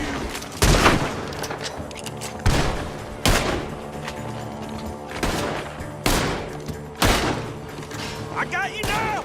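Gunfire in the video game Red Dead Redemption 2: loud single shots spaced irregularly, about seven cracks with echoing tails, amid shouted voices and game sounds.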